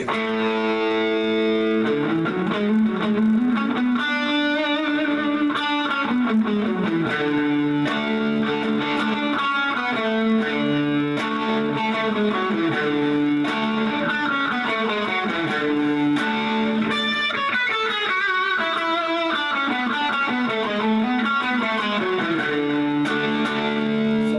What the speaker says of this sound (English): So here's the sound of a Lydian.